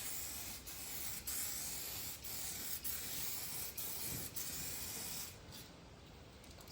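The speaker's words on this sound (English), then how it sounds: "Put some clear coat on this thing." Aerosol can spraying clear coat onto a painted piece from close range, a steady loud hiss broken by several short pauses as the nozzle is released and pressed again, fading quieter near the end.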